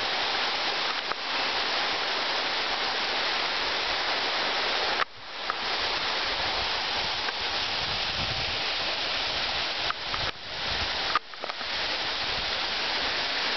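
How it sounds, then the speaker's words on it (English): Bonita Falls waterfall on a hike, a loud, constant roar of rushing, splashing water heard close up, broken only by a few brief dropouts. "This is the waterfall."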